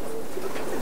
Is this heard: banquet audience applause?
no